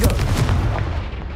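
Confringo blast spell fired in Hogwarts Legacy, a loud, dense explosive burst with heavy low rumble that rolls continuously through the moment without pause, no voices over it.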